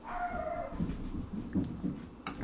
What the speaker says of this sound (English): Our dogs are going crazy.